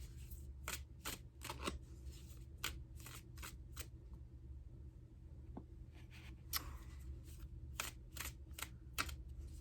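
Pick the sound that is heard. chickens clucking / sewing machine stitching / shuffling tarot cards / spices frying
shuffling tarot cards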